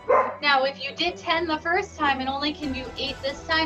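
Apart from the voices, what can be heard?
dogs barking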